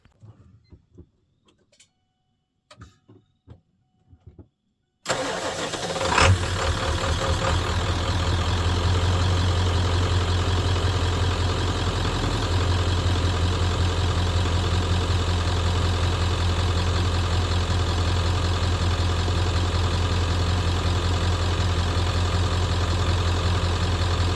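A 1992-97 OBS Ford truck engine starts up and idles steadily, a loud, constant rumble with a sharp start-up burst, preceded by a few seconds of faint, scattered knocks.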